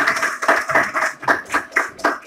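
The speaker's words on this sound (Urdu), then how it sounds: "آپ کی بھرپور تالیوں میں" Applause from an audience at a lecture gathering welcoming a professor to the stage: brisk, fairly loud clapping in rhythmic bursts, heard alone without talk.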